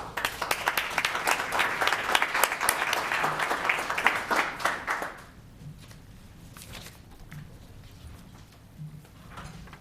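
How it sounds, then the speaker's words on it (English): Audience at a Los Gatos town council meeting breaks into a loud round of applause that runs for about five seconds, then drops to scattered claps, shuffling and room noise. "Another round of applause."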